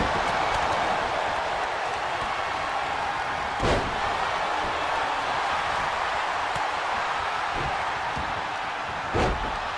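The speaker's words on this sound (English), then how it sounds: "Slamming Green Arrow." Wrestling slams in the WWE 2K23 video game during a Royal Rumble match, with two or three sharp thuds over a steady arena crowd roar.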